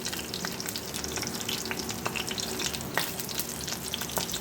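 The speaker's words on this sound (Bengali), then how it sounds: "ফোড়ন দিচ্ছি।" Dry red chillies, panch phoron, cloves, cinnamon and bay leaves tempering in hot oil for sabudana khichdi, a steady close sizzle with scattered crackles and pops throughout, no voices.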